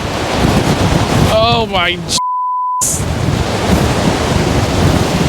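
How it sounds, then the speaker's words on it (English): Ocean surf pounds in strong wind beside a vehicle with a rooftop tent, a steady broadband roar of waves and gusts filling the whole clip, with a short exclamation from a person and a brief beep partway through. "Look at these waves."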